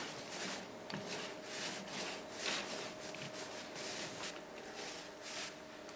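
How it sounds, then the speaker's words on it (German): A paint roller rolls paint onto a boat hull in steady, repeated strokes, a soft close rubbing texture that continues throughout with no talking. "Dann können wir hier mit der Rolle ansetzen."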